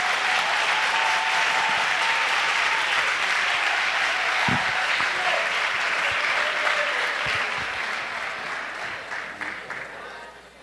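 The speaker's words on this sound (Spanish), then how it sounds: "Dese un aplauso" A big crowd at a grand opening event applauds loudly and continuously, a thick steady roar of clapping that slowly fades toward the end.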